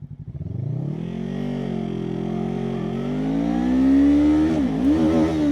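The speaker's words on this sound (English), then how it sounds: "Okay, let me rev it up a bit." A Voge CU525 motorcycle engine idles with a rough, pulsing beat, then revs up and holds a rising, strained drone before dipping and climbing again, loud and close.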